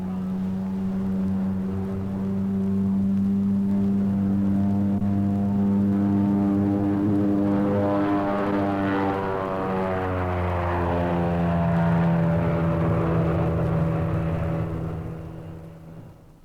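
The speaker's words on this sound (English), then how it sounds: "Half of the Armstrong Siddeley double Mamba turboprop can be shut down for cruising economy." An Armstrong Siddeley double Mamba turboprop aircraft passes at the 1952 Farnborough air show with a loud, steady droning roar. Its pitch shifts as it goes by, and the sound fades toward the end.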